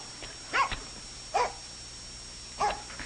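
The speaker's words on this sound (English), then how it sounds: "Oh, nice doggy. Good doggy. Go home." A dog lets out three separate barks, spaced unevenly apart and heard at moderate distance over a quiet background hum.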